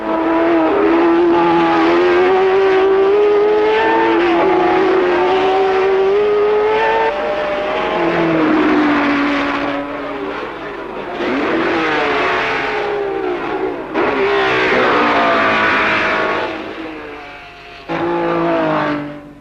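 Formula 1 race cars at the 1967 German Grand Prix roar loudly down the straight, engines revving and shifting pitch as they pass, a continuous high-pitched snarl with no talking.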